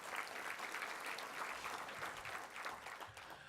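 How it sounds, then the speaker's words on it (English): Audience at a college president's inaugural breakfast applauding, a dense, steady round of clapping from many hands that holds at an even level throughout, with no voices over it. "Let's give them all another big round of applause."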